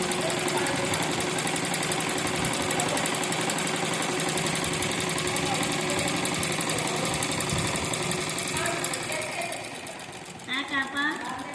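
A sewing machine runs steadily, stitching through a folded square of fabric in a continuous loud whir for most of the time, then slows and stops near the end as a voice begins to speak.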